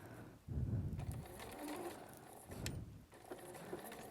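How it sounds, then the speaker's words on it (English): A sewing machine stitches a seam a couple of millimetres from the fabric edge, a soft rapid mechanical whirring in short bursts with brief pauses, fairly quiet and alone. "Now what I want to do is sew a seam very close to the edge there."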